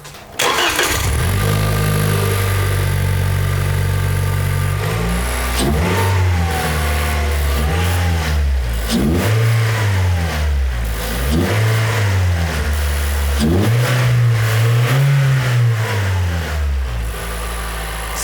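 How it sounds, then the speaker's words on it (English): A 2020 Toyota Corolla fitted with a Remark exhaust and AEM intake, starting and then revving repeatedly in a closed garage, loud and close, each rise and fall of the engine heard clearly with no talk. "we're gonna start it and rev it in a closed garage"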